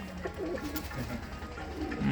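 Home-bred flying pigeons, including a female that was flown until four in the evening, coo softly and low in a quiet loft, with faint background murmur.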